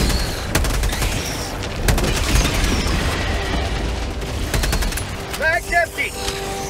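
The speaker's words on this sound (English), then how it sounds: "Firing orbital strike." Gunfire and explosive booms from an orbital strike in the game Helldivers 2, with rapid bursts, heavy blasts and a loud, chaotic battlefield roar, plus game voices speaking over the action.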